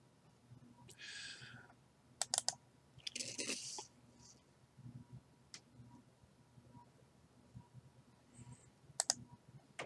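A few sharp computer mouse clicks sound close up during software installation on a computer, with brief paired clicks spaced across quiet room background and some soft rustling handling noise between them.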